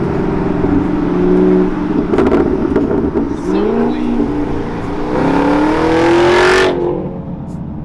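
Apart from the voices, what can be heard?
Camaro muffler-delete exhaust revving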